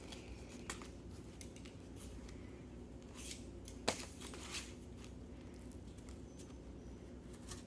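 A blade scraping and snipping at a tough Mylar comic book bag, with soft scratchy cuts, one sharp click near the middle and light rustling throughout, close and fairly quiet.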